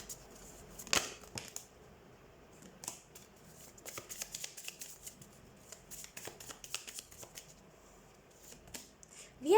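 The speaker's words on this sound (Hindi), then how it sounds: "अब हम देख लेते हैं एक्स्ट्रा कार्ड्स, कुछ एक्स्ट्रा कार्ड्स।" Tarot cards being shuffled near the listener, a steady stream of light flicking and riffling snaps with a few sharper slaps, moderately loud and continuing for nearly ten seconds without speech.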